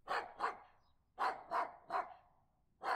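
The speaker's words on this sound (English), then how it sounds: "How did a dog get past the gates?" A dog barks sharply several times, in a pair, a quick triple and then a single bark, moderately close and clear against a quiet background.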